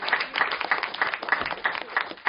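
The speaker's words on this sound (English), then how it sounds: "please give one last round of applause to the team" An audience at a Truth and Reconciliation report anniversary event applauds the team with steady, dense clapping that stays even and moderately loud throughout.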